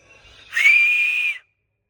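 One person gives a loud, clear whistle: a single steady high note held for under a second after a brief soft breath, then silence.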